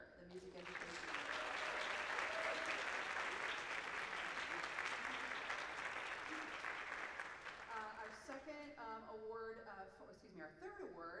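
Concert audience at a university choral concert applauds an award winner: dense, sustained clapping for about eight seconds that then thins out as voices and music-like tones emerge near the end.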